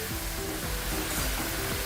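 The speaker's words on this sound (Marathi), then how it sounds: "त्यामुळे हे सारखे असे फिरवून फिरवून ते छान तळून घ्यायचे." Raw jackfruit chips fry in hot oil in a wide, shallow pan over high heat, giving a steady, dense sizzle that stays close and unbroken, with no voices.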